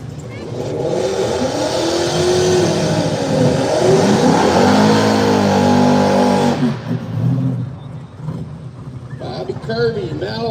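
An old Chevrolet Malibu race car at an arm-drop drag event revs loudly with a rising and falling engine note, then drops off as cars pass, under crowd and announcer chatter.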